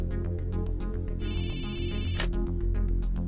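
A phone ring tone plays briefly over steady background music, a bright electronic trill lasting about a second.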